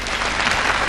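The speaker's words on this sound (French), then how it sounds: "Bravo, Martine. On applaudit" A television studio audience claps for a young girl named Martine on a children's talent show, dense, loud applause filling a single brief burst.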